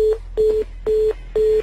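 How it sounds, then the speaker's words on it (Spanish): A cut-off phone call leaves a steady line tone: four short, loud, evenly spaced beeps pulse in a regular rhythm over a faint background hum. "se le cortó el teléfono a la Jenny."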